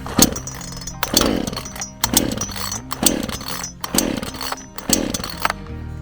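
Six rhythmic pulls on a chainsaw starter cord during storm cleanup after Hurricane Helene, each a rasping whir of the unfired engine turning over, close and regular at about one pull per second.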